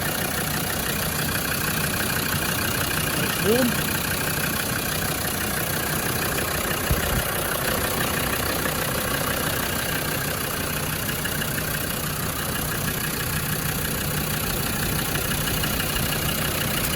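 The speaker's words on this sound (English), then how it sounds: "a quick video of this 110 TD5 double cab engine running." Land Rover Defender 110 TD5 double cab diesel idles steadily at close range, a constant low engine drone with faint background hiss; someone speaks briefly over it.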